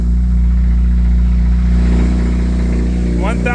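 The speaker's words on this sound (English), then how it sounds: "let's hear that cold start, because it always sounds good" A 2022 Subaru WRX with an aftermarket downpipe idles right after a cold start, a loud, close, steady deep rumble with strong low tones that barely changes across the few seconds.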